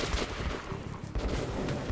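Gunfire in Metro 2033 Redux, a dense burst of rapid automatic shots crackling continuously with a short gap midway, loud and close.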